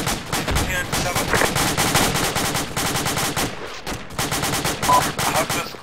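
Sporadic gunfire in the military video game Arma, with sharp rifle shots and short automatic bursts cracking repeatedly, some close and loud, others trailing off, one brief pause midway.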